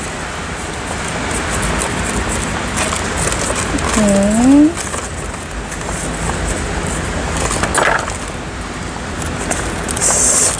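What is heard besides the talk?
car traffic and rain outdoors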